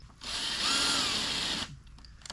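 A power drill drives self-tapping screws on a tiny off-grid cabin build, a loud steady whir lasting over a second before stopping abruptly, followed by quiet handling noises.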